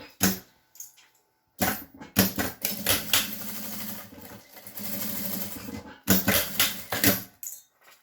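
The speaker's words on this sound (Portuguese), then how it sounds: "dobrar essa ponta, passar uma costura e colocar ele pra dentro" Sewing machine stitching a seam to close a fabric lining, running in several loud bursts of rapid needle chatter separated by short pauses.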